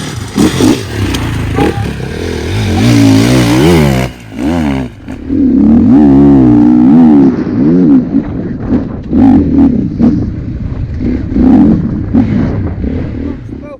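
An enduro motorcycle at an extreme enduro course revs hard and loud nearby, climbing and dropping in pitch with throttle blips, a brief cut as it leaves a berm to jump a gap, then rough riding and revving over rocky ground.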